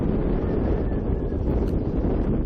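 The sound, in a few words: wind while sailing a sailboat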